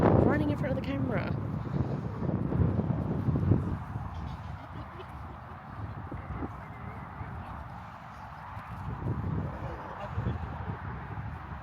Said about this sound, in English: it is incredibly windy here, which we didn't anticipate